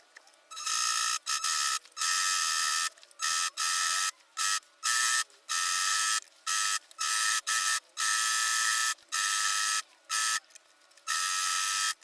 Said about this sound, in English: I'm going to finish mine by overlocking